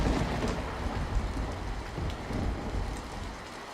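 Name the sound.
heavy rain outside a hut, cartoon effect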